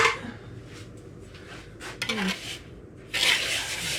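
Sugar is stirred in a bowl while making cheesecake, a utensil scraping and clinking against the bowl in uneven strokes, close and moderately loud, with a louder rattle near the end.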